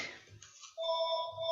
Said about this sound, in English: Sorry about the phone ringing in the background.